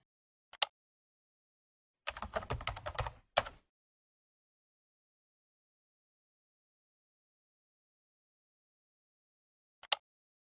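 Keystrokes tap on a computer keyboard in quiet surroundings: a single click, a quick burst of rapid typing lasting about a second and a half, then one more click near the end.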